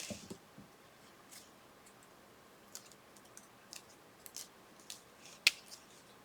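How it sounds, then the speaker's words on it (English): Scissors cutting apart paper for a Christmas-themed paper-craft folio, a sparse series of quiet snips and clicks at irregular intervals, one sharper cut near the end, heard close with no talking. "And I'm actually going to cut this apart."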